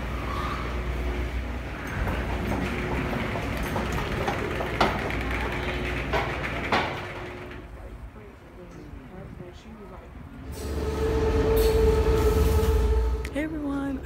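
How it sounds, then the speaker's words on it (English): Passenger train in motion heard from on board, a steady low rumble and rolling noise that dips midway then swells louder again, with voices talking over it. "So now we're riding on the train."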